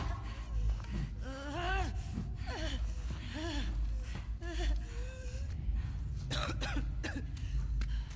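A raspy, strained voice wheezes and coughs in short bursts over a constant low rumble in The Last of Us Part II, with several harsh cough-like hits toward the end.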